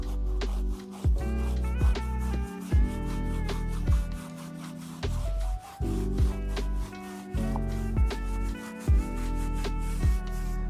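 A big brush scrubs soapy knobby tires in a garage, rubbing in steady back-and-forth strokes with short pauses between passes, close and fairly loud with no talking.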